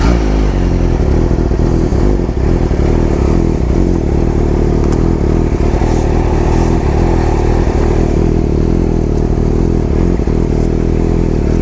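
A Yamaha R7 motorcycle engine roars steadily and loudly throughout, with a constant dense rumble, mechanical clatter and no pause.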